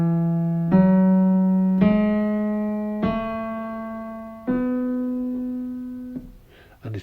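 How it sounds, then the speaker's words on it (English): Sustained brass instrument notes stepping upward one by one as a major scale, five clear held tones with clean attacks, played solo and close. "Major scale sounds like this."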